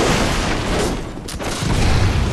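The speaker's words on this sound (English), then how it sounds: "Oh shit, I'm wasting too many bullets." Gunfire in Bloodborne rings out as loud, booming blasts over a thick wall of game noise, with a brief dip before the rumble swells again.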